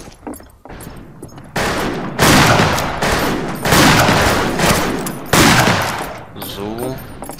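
Rapid, loud volleys of shotgun blasts in the Western multiplayer shooter Fistful of Frags, overlapping into dense, sustained bursts of gunfire for several seconds before tapering off.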